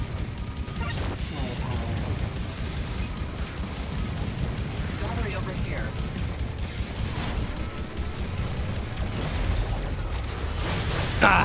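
Rockets fire and explode in a busy video game, dense rumbling blasts and mechanical clatter layered throughout, loud and continuous, with a voice talking over it.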